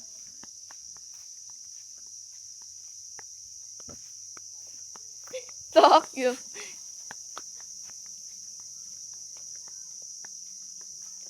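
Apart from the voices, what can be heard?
crickets chirping loudly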